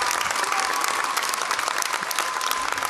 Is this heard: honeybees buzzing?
no